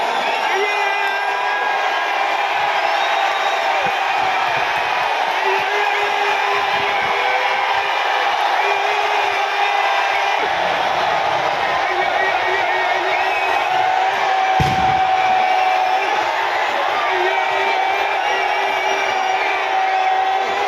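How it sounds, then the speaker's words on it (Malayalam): A large crowd at the Chinakkathoor Pooram festival in Kerala roars and cheers as the horse effigies are readied, a dense continuous wall of shouts and whoops with individual yells rising out of it, loud and close. "ആർപ്പ് വിളികൾ ദേശങ്ങളിൽ ഇരമ്പി."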